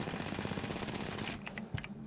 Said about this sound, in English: So, R45. Super crazy high rate of fire.